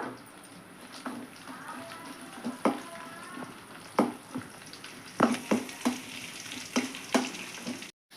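Tempering spices for cabbage chutney crackle and spit in hot oil, sharp pops and bursts scattered irregularly over a low sizzle, close and moderately quiet, with faint background voice.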